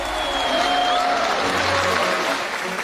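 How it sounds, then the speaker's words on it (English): A crowd applauds enthusiastically after a flag-raising ceremony, a steady, loud wash of clapping that holds evenly for the whole stretch, with a faint tone running through it. "the audience responded with prolonged and enthusiastic applause"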